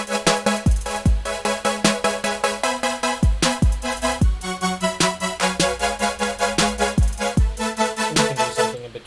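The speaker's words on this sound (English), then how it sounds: "If you were to do more of like a saw, it would sound like this." A bright, buzzy saw wave synth in a future bass supersaw patch pulses in rapid rhythmic chords over punchy kick drums. The sound is dense, loud and continuous with no voices.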